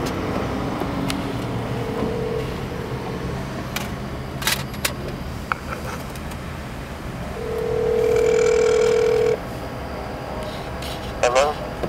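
A phone ringback tone sounds as one long steady buzz partway through, over a noisy room with background voices.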